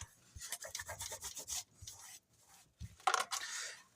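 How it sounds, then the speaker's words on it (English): A tape runner laying adhesive inside a cardboard toilet paper roll core, giving close, quick bursts of scratchy rubbing and rasping strokes with brief pauses between them. "So I got some tape runner here. I'm going to go ahead, get some tape runner in there."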